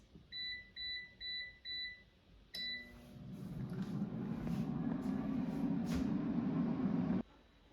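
An air fryer set to 400 degrees Fahrenheit gives four short electronic beeps from its control panel, then a steady whirring fan hum runs close and continuous for several seconds before cutting off abruptly.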